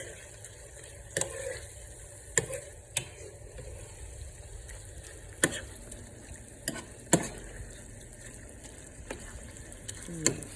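Sloppy joe mixture made with Manwich sauce is stirred in a pan, with a soft simmering sizzle and repeated sharp scrapes and taps of the utensil against the pan at an irregular pace.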